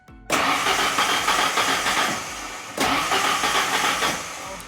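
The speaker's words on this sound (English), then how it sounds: "So right now all it does is it cranks." A truck engine cranks without catching, with a loud, continuous starter churn that runs in two bursts, the second beginning partway through.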